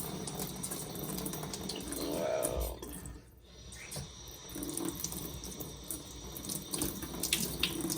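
Water hisses steadily from a kitchen faucet spray hose onto a Berkey water purifier filter, close and continuous, briefly cutting out midway before the spray resumes with splashing.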